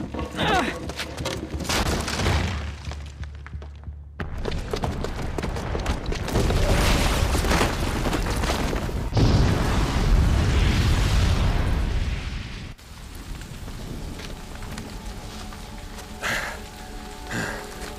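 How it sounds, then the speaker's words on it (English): A bomb booby trap goes off in Horizon Zero Dawn Remastered, setting off a long, loud, rumbling explosion with crackling debris that builds, then fades into quieter rubble and game ambience. "the booby trap on the bomb downstairs is gonna get set off"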